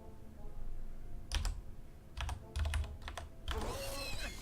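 Keys clack on a computer keyboard as a cheat code is entered while Gothic 2 is played, in a few quick bursts of close taps with short pauses and a rustling swish at the end, without speech.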